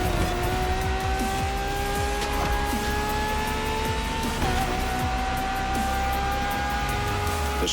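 A Ferrari V12 supercar in the racing game The Crew Motorfest, with a loud, sustained engine note that climbs through the gears alongside tyre noise, heard close and without voices.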